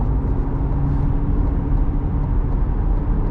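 A C8 Corvette cruising at speed on a highway with a constant low road and engine rumble, steady and close, with no other sounds standing out.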